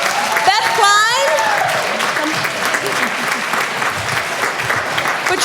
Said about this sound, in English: Please give a warm applause to our story troupe.